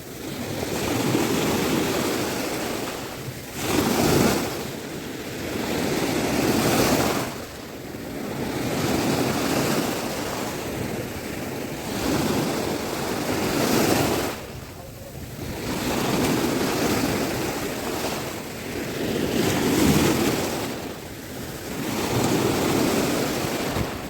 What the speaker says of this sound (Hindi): ये पानी एक बार वापस जाता था और लहरों के साथ इतनी ज़बरदस्त प्रेशर से पीछे आ जाता